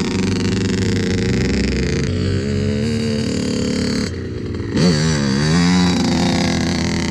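Two-stroke motorcycle engine at a wheelie riding lesson, loud and close, holding a steady high buzz with throttle swells, a brief dip and a sharp rev rising near the end.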